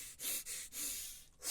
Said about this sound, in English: Inhale. Hold it. Exhale through your mouth.